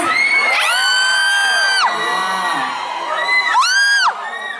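A concert crowd screams and cheers loudly for a singer, with high-pitched sustained shrieks rising and falling in two big waves.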